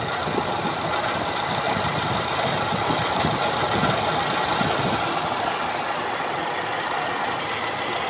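A Toyota Kijang 7K engine with a Grand Extra carburetor runs close and steadily, its dense rough mechanical clatter holding at an even level with a slight throttle lift and no voices.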